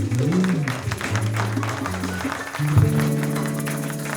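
Audience applause for young performers at a live cultural show, broad clapping running throughout and partly masked by louder, sustained music playing beneath it.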